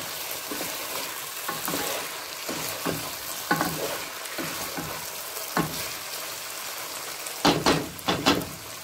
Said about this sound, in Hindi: इसको भी मिक्स करके अच्छे से भूनेंगे।